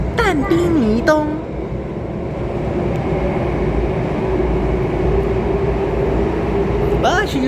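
A Downtown Line C951 metro train runs between Expo and MacPherson, giving a steady low rumble and hum from inside the car, with brief nearby talk at the start and end.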